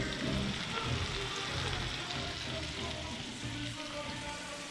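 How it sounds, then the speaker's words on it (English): Fish fillets blacken in hot butter in a skillet, giving a steady, soft sizzle and crackle that runs evenly without pause. "we got butter in the skillet, nice and hot"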